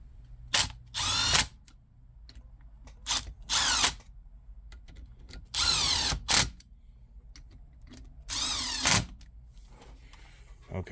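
Power drill or driver running in repeated short bursts while seating the head bolts on a Predator-type 212 non-hemi small engine during assembly, each whir loud and close with quiet pauses between.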